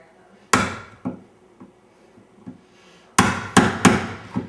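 A chisel is tapped into wood to deepen a door mortise where a handleset latch tongue fits: sharp, close knocks, a few scattered single taps, then a quick cluster of four louder strikes near the end.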